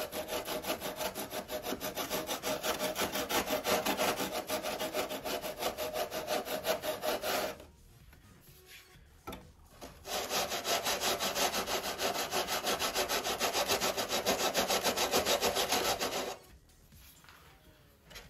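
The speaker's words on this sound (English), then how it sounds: "we'll just kind of match up that angle using the 80 grit side first till I get close" An 80-grit Permagrit block rasps back and forth across balsa formers in the aft fuselage of a .60-size P-40E Warhawk model, in two long runs of quick, rhythmic strokes separated by a short pause, close and clear.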